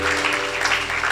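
Audience applause at a religious gathering, a dense continuous patter of clapping held steady throughout, with a faint tonal hum underneath.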